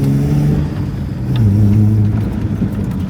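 A rare imported car with a torquey 4-liter six-cylinder engine and manual gearbox pulls away in second gear, the engine droning low and rising in pitch as it accelerates, close and loud.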